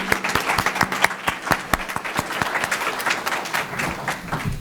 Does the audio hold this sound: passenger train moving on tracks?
no